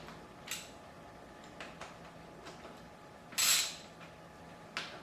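Hex socket cap bolts being snugged on a Suzuki GS550 cafe racer clutch cover, a few sparse metallic clicks and a short ratcheting burst, close and quiet against a low background hiss.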